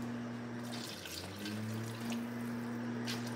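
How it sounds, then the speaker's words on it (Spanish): Water poured into a pot of shrimp soup during home cooking, a steady splashing pour with no talk, close and moderately loud throughout, a hum running underneath. "Sí, le hace falta un tantito de agua"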